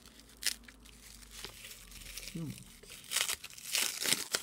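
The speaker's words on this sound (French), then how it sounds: "On va d'abord déballer tous les paquets" Packages from a large parcel sent from Ukraine are unwrapped with intermittent paper crinkling and tearing bursts, close and fairly faint, alongside a brief voice.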